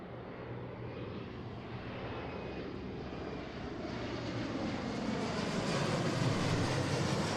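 A passenger airliner landing at Seattle-Tacoma airport, a broad jet engine roar that swells steadily louder, heard from a distance with no talk.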